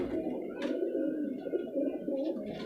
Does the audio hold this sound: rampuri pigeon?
yes